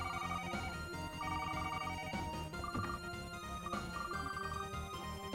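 A telephone ringtone in a courtroom-style video game, a repeating electronic ring pattern over a busy musical backing with no talking.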